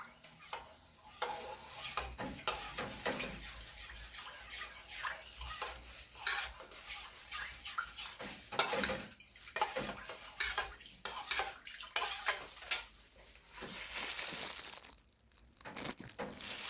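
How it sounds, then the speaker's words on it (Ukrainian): A spoon stirs and scrapes a yeast mixture against a bowl in quick, uneven strokes, with soft clinks and some crackling, close by and without talk. "І так ложкою чуть-чуть вимішаю так щоб дріжджі розійшлися по молодці"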